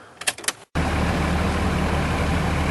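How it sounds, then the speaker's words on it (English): A 2003 Dodge Ram truck engine cranks and catches after a brief silence, then runs at a steady, loud, close idle. "Engine starts."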